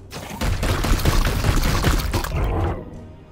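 Weapons fire in the video game Chaos Gate: Daemonhunters as a dense, loud fusillade of rapid shots, lasting a few seconds and then cutting off.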